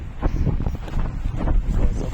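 Strong wind blowing around a pine tree on a mountain, a steady rough buffeting roar with gusty swells that batters the microphone, loud and continuous with no voices.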